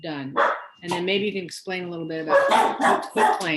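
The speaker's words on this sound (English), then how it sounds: "Sorry about my dogs." Pet dogs barking indoors in a home, several loud, close yips and barks heard under and between a person's speech.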